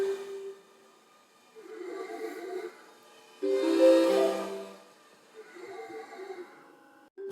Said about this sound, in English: That's the turning sound of the real robot.